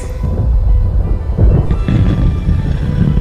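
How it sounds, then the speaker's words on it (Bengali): Deep, rumbling thunder rolls continuously and loudly, a low heavy roar with faint rain-like hiss behind it. "মাথার উপর থেকে আসা শব্দে বুঝলাম বাইরে বাজ পড়তে শুরু করেছে।"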